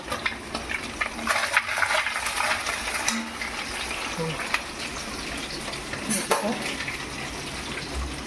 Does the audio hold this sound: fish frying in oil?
yes